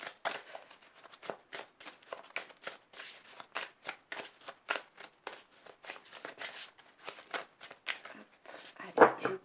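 Tarot cards shuffled and then cut by hand, giving repeated soft riffling and slapping close by in an uneven rhythm, with someone speaking French quietly over parts of it.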